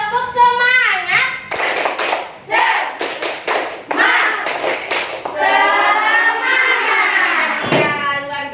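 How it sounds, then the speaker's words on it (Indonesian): Schoolchildren in an Indonesian classroom perform a rhythmic group clap led by their teacher, bursts of hand claps mixed with children's chanting voices and a teacher speaking. "Coba kita tepuk semangat dulu ya. Tepuk semangat."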